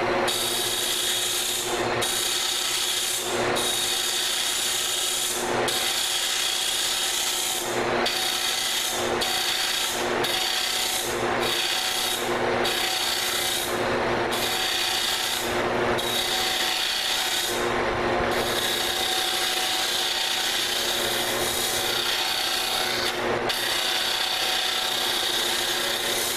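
A boring bar cuts into wood on a lathe, clearing a shoulder out to the edge. It makes a steady, close scraping rasp that keeps going with brief rhythmic breaks as the tool is pulled back and fed in again.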